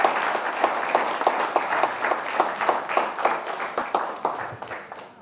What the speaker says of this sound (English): So you're clapping something like that